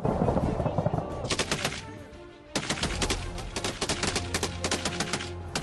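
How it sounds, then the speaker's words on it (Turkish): Rapid bursts of automatic gunfire crackle loudly and continuously during an armed clash involving soldiers, with a brief pause before another sustained volley of shots. "Silah sesleri dakikalarca kesilmedi."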